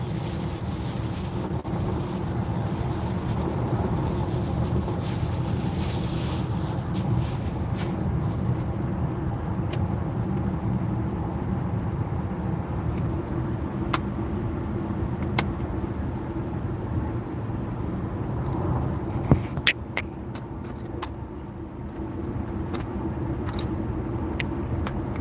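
A Nio EL8 electric SUV driving along a road, a steady low rumble of tyre and road noise with wind buffeting, close and continuous, with a few brief clicks and knocks toward the end.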